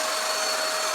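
An ikeborm cordless vacuum cleaner, a budget model running on Dewalt 20V batteries, whines at full suction with a loud, steady high-pitched motor drone, close and continuous without talk.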